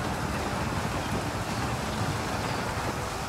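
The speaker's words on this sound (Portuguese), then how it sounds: "Provavelmente por causa da chuva." Steady rain in the ancient Egyptian strategy game Total War: Pharaoh, heard as a dense, even wash of hiss and patter that holds loud and unbroken for the whole stretch, with no voices over it.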